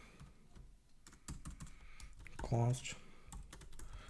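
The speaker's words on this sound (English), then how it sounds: "Let us type an example on the screen." Keyboard typing with quick, irregular clicks that carry through the clip, while someone speaks over it, setting up a beginner programming example in the Zig language.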